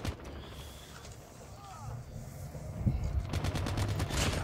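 Gunfire from Call of Duty Mobile, with a rapid string of shots building near the end over a low steady game background and faint scattered effects.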